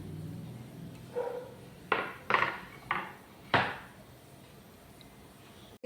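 A knife chops greens on a board for spinach and potato vada, four or five distinct crisp cuts in an irregular rhythm, close and fairly quiet with no talking.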